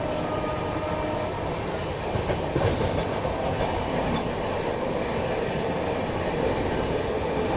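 Bihar Sampark Kranti Express running on rails, a loud continuous rumble with rhythmic clickety-clack and squealing wheels, heard close from on board, steady for several seconds.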